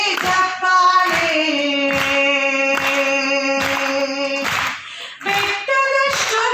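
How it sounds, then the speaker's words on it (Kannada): An audience at a women's day function claps in a steady rhythm, sharp regular beats about twice a second, layered under a sung melody. "ಚಪ್ಪಾಳೆ ಚಪ್ಪಾಳೆ ಚಪ್ಪಾಳೆ ಚಪ್ಪಾಳೆ"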